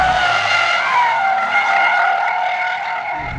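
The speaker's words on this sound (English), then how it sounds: "Oh my God, he's drifting." A Hyundai IONIQ 5 N drifting on a race track, a loud sustained tire squeal with strong, wavering tones lasting the whole clip, no engine roar beneath and no speech.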